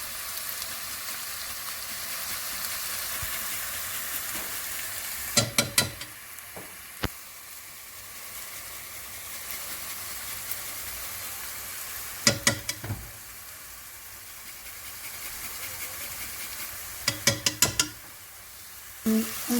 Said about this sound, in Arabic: نقلو البصل